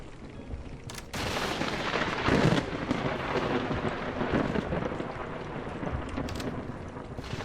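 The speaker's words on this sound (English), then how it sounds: "Thunder" Thunder booms outside in a video game, a heavy rolling rumble with a sharp crack that stays loud and continuous amid rain-like noise.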